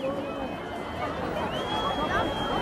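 A large crowd cheers and chatters as Nelson Mandela walks free from Victor Verster prison beside Winnie Mandela, a dense, continuous outdoor roar of voices with whistles rising above it.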